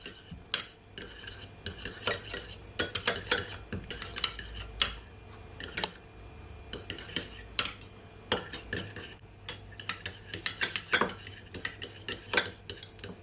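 A utensil clinks and scrapes against a bowl in quick, irregular taps as cream cheese is mixed into a mayonnaise-based chicken sandwich filling. The sound is quiet and close, with no talking.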